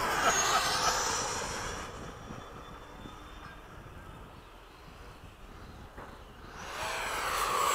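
An Eflite 80mm F/A-18D radio-controlled model jet flying at an airfield, its ducted-fan whine loud as it passes near, then fading into the distance before swelling back again.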